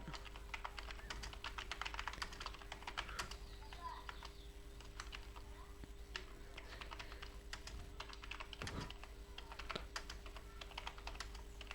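Fingers tap quickly on a computer keyboard, a dense run of light clicks going on throughout, with a low hum in the background.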